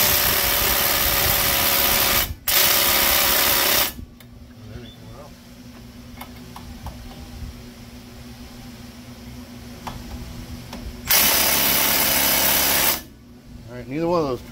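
An impact wrench works on the ball joint of a 1999–2002 Chevrolet Silverado 1500 2WD, loud whirring bursts from the tool near the start and again later, with quieter shop sounds and speech in between.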